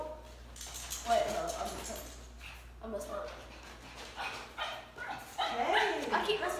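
A dog barks and yips a few times amid lively chatter from a group of friends on a road trip, the barks mixed in under overlapping talk throughout.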